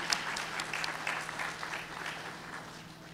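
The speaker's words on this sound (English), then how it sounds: "Let's give her another big round of applause for Kathy" A round of applause for the emcee at a mayor's AAPI Heritage Month celebration, sustained crowd clapping that gradually eases off over three seconds.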